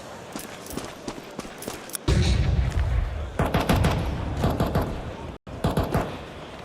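Rapid gunfire rattles through a Counter-Strike match at an ESL Pro League semi-final, bursts of rifle shots and impacts continuing over several seconds, loud and busy, with a caster talking over it.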